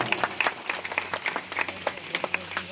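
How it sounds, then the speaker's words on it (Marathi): Applause from an audience at a Buddhist Dhamma conference in Surwadi, welcoming a guest: dense, steady hand claps in a close crowd, lasting the whole stretch without talk. "त्यांचं टाळ्या वाजवून आपण स्वागत करायचं आहे"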